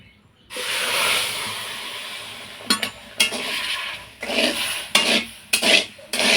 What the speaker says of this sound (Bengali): কড়াইতে দিয়ে দিচ্ছি 1 বাটি চিনি, আর দিয়ে দিচ্ছি ওই বাটিরই হাফ বাটি জল